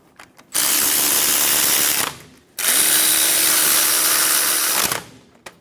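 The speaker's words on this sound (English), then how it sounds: "Install the caliper bracket bolts." A power tool drives in the caliper bracket bolts on a 2014-2018 Chevrolet Silverado 1500, two loud close whirring runs of about one and a half and two and a half seconds, separated by a short pause, with no talking.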